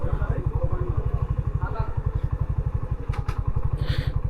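A parked motorcycle idles close by in a steady, fast pulsing throb with a slight clatter, running evenly throughout while a voice speaks over it.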